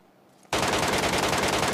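Automatic fire from the 妹控 gun in a video game bursts in after a quiet moment, a loud rapid stream of shots continuing to the end.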